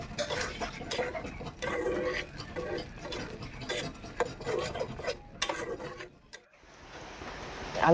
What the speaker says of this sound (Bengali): পটলগুলোকে ছেড়ে দিয়ে ভালো করে নাড়াচাড়া করে নেব।